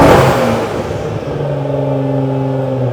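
A Nissan VR38 engine fitted in a Lexus LFA project car with a manual transmission revs hard up close, then settles into a loud, steady drone with a rising tone.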